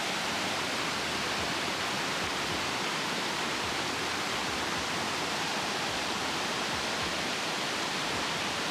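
A forest waterfall roars as a dense, steady rush of falling water, loud and close with no pauses, filling the whole sound with constant broadband noise.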